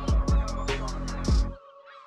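A flock of seagulls squawks overhead in a run of repeated, rhythmic, nasal calls, loud and close, then the calls stop abruptly.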